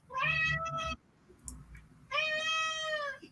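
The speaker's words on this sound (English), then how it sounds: "I have disrespectful cats right now." Two drawn-out cat meows indoors, loud and close, the first lasting about a second and the second longer, separated by a brief quiet gap with no talking.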